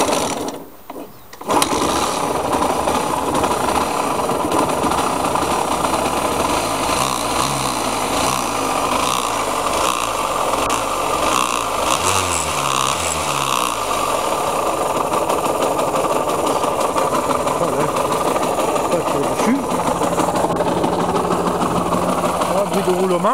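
A Kawasaki KMX motorcycle engine catches after a brief start and runs steadily at idle, loud and close, with a buzzing two-stroke rattle and slight revving throughout.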